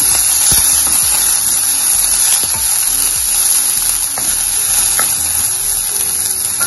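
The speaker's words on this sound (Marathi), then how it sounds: "एक मीडियम आकारचा कांदा आहे बारीक चिरलेला, परतून घेऊ." Finely chopped medium onion frying with asafoetida, cumin, mustard seeds and curry leaves in a pan for bread potato patties, giving a loud, steady close sizzle with occasional stirring scrapes throughout.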